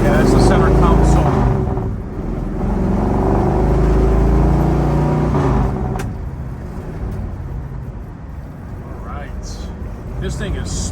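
Inside a 1970 Chevrolet Nova cruising down a road in traffic, a steady engine drone and road rumble fill the cabin, easing off slightly partway through, with a voice talking over it.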